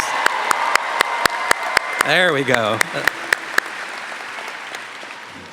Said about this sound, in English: Come on, you can get louder than that